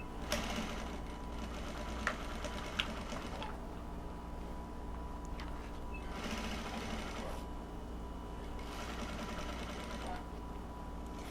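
A sewing machine runs steadily in a sewing studio, its fast mechanical stitching hum continuing with little pause, a few faint clicks on top and no talking.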